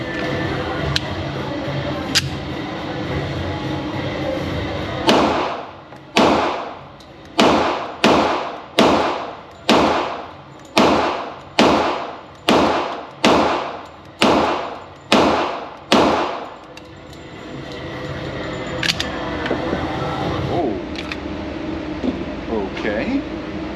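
Twelve sharp 10mm pistol shots from a Sig Sauer X Ten ring out at a steady, rapid pace against a 6-inch steel plate target at 5 yards, each report loud and close, with faint background noise before and after.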